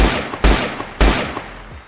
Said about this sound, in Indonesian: Suara tembakan terdengar keluar.